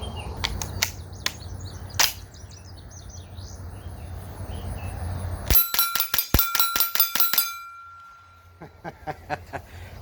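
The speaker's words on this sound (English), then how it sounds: "Let's have some damn fun shooting the hell out of this thing." A GSG 522 .22 rifle fires outdoors: a few sharp early shots among chirping birds, then a rapid string of cracks with metallic ringing, followed by a quieter scattered few.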